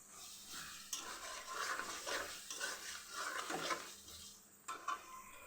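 Beef pieces with garlic and spices being stirred and fried in a pot for a beef bhuna, with a steady clatter of a spoon scraping the pot under a soft sizzle and a few louder knocks.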